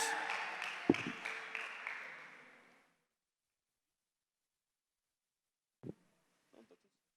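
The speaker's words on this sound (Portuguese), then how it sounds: "Dá uma salva de palmas para Jesus aí, por favor" A church congregation applauds in a short burst of clapping that fades out over a few seconds, followed by silence and a couple of faint knocks.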